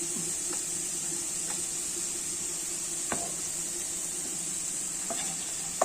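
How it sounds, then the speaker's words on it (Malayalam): Coriander powder roasts in a pan for mutton chops, giving a soft, steady sizzle, with a few scraping stirs and light clinks breaking through at intervals. "അപ്പോൾ മല്ലിപ്പൊടിയൊക്കെ നല്ലതുപോലെ ഒന്ന് മൂത്ത് വരട്ടെ"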